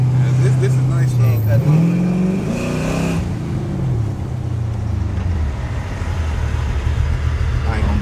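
A 1970 Oldsmobile Cutlass with a cammed 6.0 V8 and stage 2 setup, recorded close by: a rough, lopey idle rises into a quick rev, then falls back to a choppy, uneven idle.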